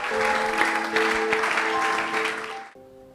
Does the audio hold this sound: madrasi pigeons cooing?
no